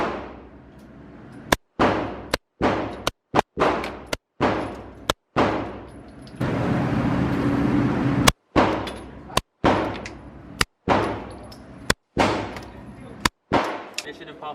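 Gunshots at an outdoor gun range with 9mm, .45 ACP and 5.56 firearms: loud, sharp reports in irregular single shots and quick pairs, with a continuous roar in between and faint voices.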